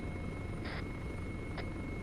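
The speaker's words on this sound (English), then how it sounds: "tally on the helicopter" A military helicopter in flight during an armed operation gives a steady, faint, distant drone with a continuous whine, with two brief hissing bursts breaking over it.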